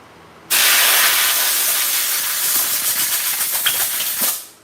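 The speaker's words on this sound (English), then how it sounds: "So you can take carb cleaner on these. Get the fuel out." Carb cleaner sprayed onto a Stihl FS 90 R string trimmer: a loud, steady, close hiss that starts abruptly and runs for about four seconds before trailing off.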